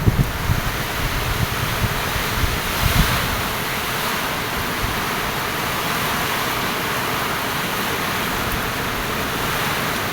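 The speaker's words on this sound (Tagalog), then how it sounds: "maririnig kayo sobrang lakas ng agos ng tubig" Strong rushing floodwater from Typhoon Nika in Cordon, Isabela roars continuously, a broad steady wash of current with wind buffeting the microphone at the start.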